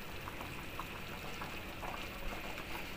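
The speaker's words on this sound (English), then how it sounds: "The curry bubbling nicely." Chicken ball curry bubbling gently in a pot, a soft, steady simmer with faint pops and gurgles that runs on continuously at low volume.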